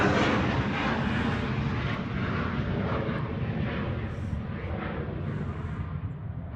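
A Citation business jet rolls for takeoff at Manchester Airport at night, a steady broad engine roar heard from a distance that holds constant and fades slightly.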